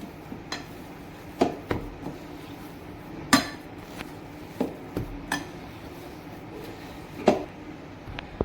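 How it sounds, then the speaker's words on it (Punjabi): A spoon clinks and scrapes against a pan while a roasted chana and coconut barfi mixture is worked together with desi ghee, giving irregular sharp taps spaced a second or so apart over a low kitchen background, with no talking. "ਹੁਣ ਆਪਾਂ ਇਹਨੂੰ ਮਿਕਸ ਕਰ ਦੇਣਾ ਦੇਸੀ ਘਿਓ ਨਾਲ"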